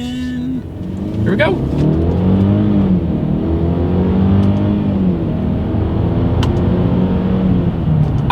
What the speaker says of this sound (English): we're gonna do a little combination of the paddle shifter and acceleration test here